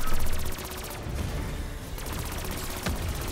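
Gunfire in the Revelations map of Call of Duty zombies, dense rapid automatic shots crackling continuously at a loud, close level, with a brief lull partway through.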